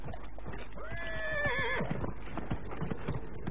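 A horse in the video game Dragon Age Inquisition gives a clear, rising whinny that wavers and trails off, with hooves clip-clopping close by throughout.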